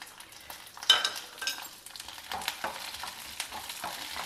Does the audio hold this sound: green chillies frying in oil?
yes